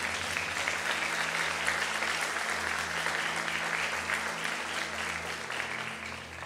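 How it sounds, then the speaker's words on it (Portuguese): A church congregation applauds during a sermon, a full steady roar of many hands clapping at once, sustained for several seconds and easing slightly at the end, with no speech over it. "Vamos aplaudir ao Senhor por isso?"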